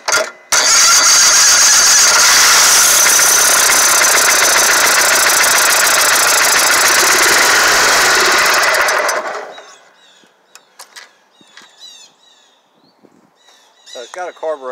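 A small engine with a carburetor fault, running on choke, starts with a sharp burst and then roars loud and steady with a knocking, rattling edge before cutting out; afterwards quieter clicks and metallic handling sounds follow.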